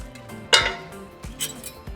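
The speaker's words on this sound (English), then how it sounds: "So now we're just going to return our pasta into the sauce." Cooked spaghetti returned to a saucepan of red ranchero sauce and mixed, a sharp metallic clink of utensil on pan followed by softer scraping and a few lighter taps, close and fairly quiet, no voices.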